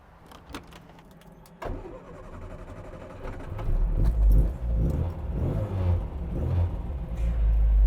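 A Mk 3 Mini Cooper S with a 1275cc engine is started after some clicks and key jangles; the engine catches and settles into a deepening, loud idle with rising revs, close by.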